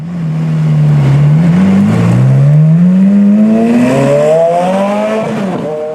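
A loud Ferrari race car engine idles and revs near 2,000 RPM, its deep droning note rising steadily in pitch over several seconds, close and continuous with no talk.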